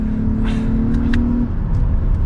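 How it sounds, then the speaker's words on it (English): Interior of a 2022 Lexus ES 350 F Sport accelerating around a turn: steady engine hum with a rising tonal whine, loud and close against road rumble, with no talking. "give it a little bit of gas as we accelerate around this turn"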